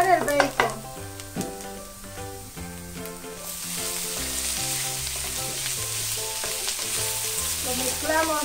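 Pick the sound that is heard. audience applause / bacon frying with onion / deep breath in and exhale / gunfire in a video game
bacon frying with onion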